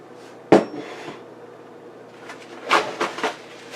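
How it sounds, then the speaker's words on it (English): A metal cake pan handled for an air fryer oven, with one sharp clank, then softer rattles and a cluster of clattering knocks later, close by with no talk. "I'm going to use this cake pan in the air fryer oven"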